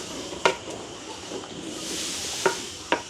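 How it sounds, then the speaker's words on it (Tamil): Boiled chickpeas being stirred with salt in a pot, giving a few scattered spoon scrapes and knocks against a faint background hiss, with no talking. "உப்பு போட்ட பிறகு நல்ல வடிவாக நாங்கள் அப்படியே கிண்டி விடுவோம்."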